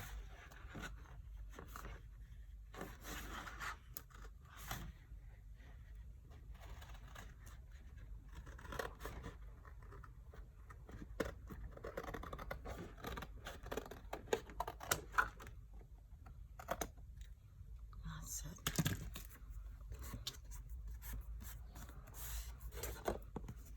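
Scissors slowly trim excess paper from around a no-sew notebook cover, a quiet close series of irregular snips and paper scratches over a low steady hum.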